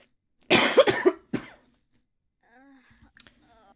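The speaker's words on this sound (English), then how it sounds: "I'm going to cough, guys." Two harsh, close coughs in quick succession, followed by quieter faint sounds and some light movement.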